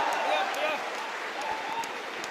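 A crowd at a Hindi-language stage performance applauds with dense, continuous clapping that holds fairly steady throughout.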